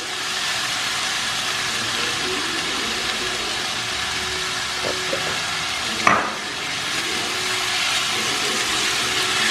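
Soaked moong dal and beans are stirred in a frying pan over a steady, close hiss of sizzling, with one sharp scrape of the spoon against the pan near the end; no one speaks.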